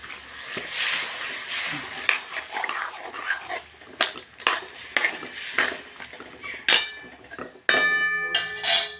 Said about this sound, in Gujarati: સાથે આપણે ચોરી નાખીશું મિક્સ કરી લઈશું